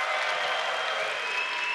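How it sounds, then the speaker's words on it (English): Audience applause fills a tech conference hall as the crowd claps for tabs in a tabs-versus-spaces poll, steady and dense for the whole stretch with no speech over it. "can I get applauses for tabs?"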